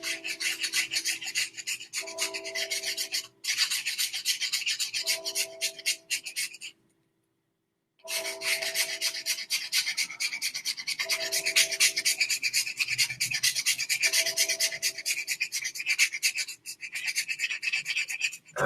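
Carving a handheld wand with a file or rasp, a loud, close scraping in repeated strokes lasting a few seconds each, broken by short pauses and one longer silence midway.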